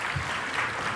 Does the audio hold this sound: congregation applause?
yes